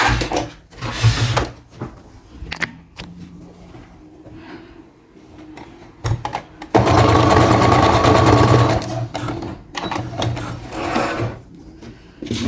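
A sewing machine runs in short bursts and one longer continuous stretch, stitching elastic on a child's shirred top, with handling clatter and pauses between runs.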